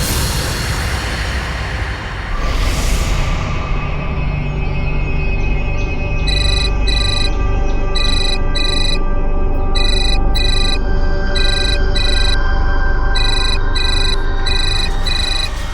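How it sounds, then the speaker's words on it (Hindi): A telephone ringtone repeats in regular electronic bursts over a loud dramatic music bed in an Indian crime drama scene, ringing on without anyone answering. "कम से कम फोन तो उठाओ।"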